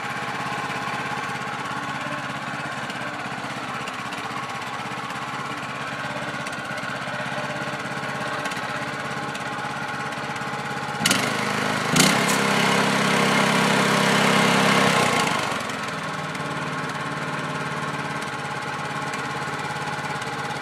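A small $150 engine from Tractor Supply runs at a steady, even idle close by, with a brief louder burst of revving and clatter in the middle before settling back to the same hum.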